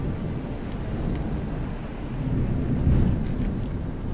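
Low rolling rumble of thunder in the video game Toren, swelling toward the end over a soft rain-like hiss, with no voices.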